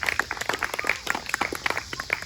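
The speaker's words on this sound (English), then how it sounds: "Big round of applause." A small audience at an operetta performance gives a short, scattered round of clapping, with individual claps distinct and uneven over about two seconds.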